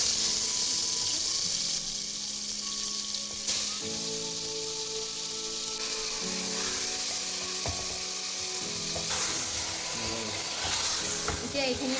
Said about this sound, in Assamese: এনেকৈ অলপ দেৰি হাই ফ্লেমত আপুনি এইখিনি ধুনীয়াকৈ লৰাই থাকিব।